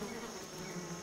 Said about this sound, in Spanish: Las moscas están entre las más veloces de todos los insectos voladores